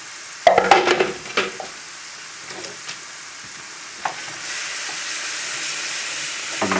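Mushroom duxelles cook in a pan over a moderate flame. A brief burst of spoon scraping and stirring comes first, then a steady hiss and soft sizzle carries on with a few light knocks.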